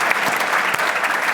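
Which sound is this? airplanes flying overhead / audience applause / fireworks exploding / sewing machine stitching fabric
audience applause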